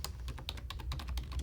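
Rapid keystrokes on a computer keyboard while entering text into a feedback form, a quick irregular run of close, crisp clicks.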